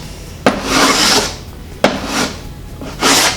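A wooden boat plank is tapered by hand from full thickness toward its edge, giving three rasping strokes, each opening with a sharp scrape and carrying on as a steady close abrasive rub, with no talking.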